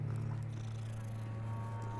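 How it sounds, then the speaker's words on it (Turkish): A cat purring in Hogwarts Legacy, a low, steady rumbling purr that holds constant and close, fairly quiet with no talking over it. "Oyunda çok kedi var ya."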